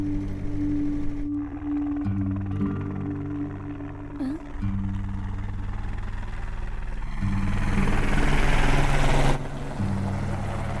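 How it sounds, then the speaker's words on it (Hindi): A helicopter flies overhead in a Hindi film scene, its steady droning rotor hum under a low rumble, swelling louder toward the end before abruptly dropping back. "भैया वो देखो हेलीकॉप्टर।"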